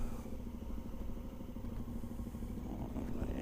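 A motorcycle engine runs close by with an uneven, clattering burble, its exhaust sputtering and popping irregularly at a moderate level, with no talking.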